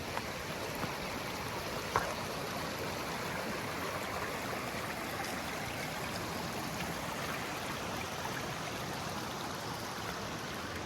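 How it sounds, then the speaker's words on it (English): A small waterfall on a creek pours into a river in a steady, dense rush of falling water, loud and close throughout, with one brief knock near the start. "There's a little waterfall."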